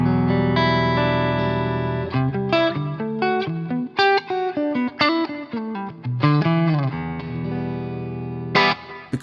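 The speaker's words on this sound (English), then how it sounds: "So the sound of the guitar is this." A clean electric guitar played through an amp with reverb switched off picks out a melodic phrase of individual notes and chords, bright and dry, steady and fairly loud with no voices.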